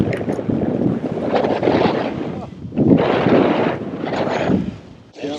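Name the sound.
strong wind on a frozen lake during iceboating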